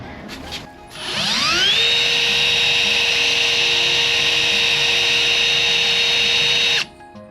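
A power drill whirs up to speed and runs at a steady high-pitched whine for about six seconds, then cuts off abruptly.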